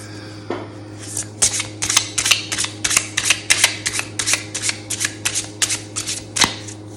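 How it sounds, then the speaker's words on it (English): A deck of cards is shuffled hard, with a rapid series of crisp riffling bursts in quick rhythm, close up and with no talking. "Good hard shuffle."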